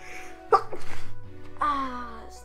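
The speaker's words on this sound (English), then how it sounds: "I'm gonna sneeze." One close, abrupt sneeze bursts out amid strained, moaning vocal sounds, followed by a drawn-out voiced exhale.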